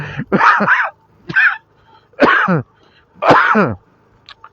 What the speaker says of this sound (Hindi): सॉरी, खांसी हो रही है थोड़ा सा।